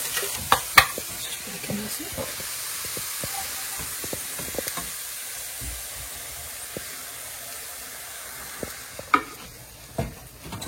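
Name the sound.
eggs added to potatoes frying in pan for tortilla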